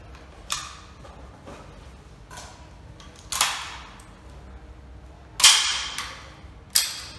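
Several sharp rifle shots from an L98A2 cadet rifle on a firing range, four distinct cracks spaced irregularly over a few seconds with quiet gaps between them.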